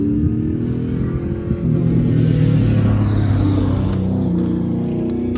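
Race cars circle a track in a steady, loud engine drone with continuous rumble and revving, a dense roar of several vehicles passing together throughout with no voices.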